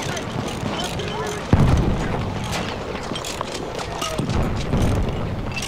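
Artillery shells landing in Battlefield 1, a sharp booming impact followed by further distant thuds amid constant battlefield rumble, with a player talking over the noise.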